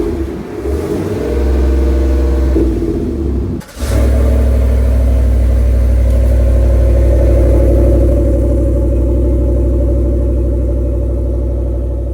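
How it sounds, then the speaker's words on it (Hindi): A 2025 Chevrolet Suburban's engine cranks briefly, catches and settles into a steady, deep idle that runs loud and close for several seconds without any talking. "सबसे पहले हम इसको स्टार्ट करके उसकी आवाज सुनते हैं"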